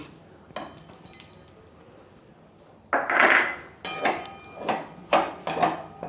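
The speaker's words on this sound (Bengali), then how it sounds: "তারপর ভেজে রাখা যে ডালটা ছিল সেটা আমরা মিশিয়ে দিচ্ছি।" A spoon scraping and clinking against a pan while fried dal is mixed into semolina upma with the heat switched off: a run of sharp metallic clinks and stirring scrapes in an uneven rhythm, close and moderately loud.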